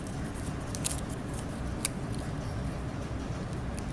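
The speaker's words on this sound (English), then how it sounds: "These are not very sharp scissors" Blunt scissors cut through paper in a steady, faint crunching rasp with a couple of sharper snips, close up and without speech.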